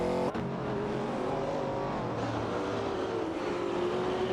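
Race cars in a racing video game roar steadily around a track, a sustained engine drone with shifting pitch and a brief sharp transient near the start, loud and without talking.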